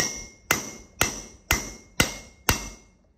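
Hammer blows drive a bearing into its seat on a 7.3 OBS truck during brake rotor and pad work: five sharp, evenly spaced metallic strikes about half a second apart, close and loud with short ringing decays.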